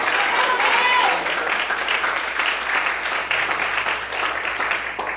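A church congregation applauds in worship, a full steady roll of many hands clapping, with voices calling out faintly under the applause throughout.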